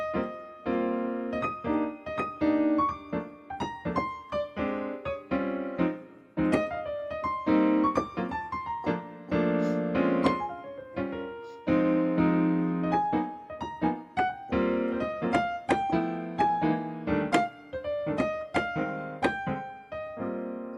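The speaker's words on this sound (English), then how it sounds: "So here's the sound of comping." Swing-style piano comping: a single-note right-hand melody punctuated by short, detached left-hand chord clusters, played solo with a lively, uneven rhythm.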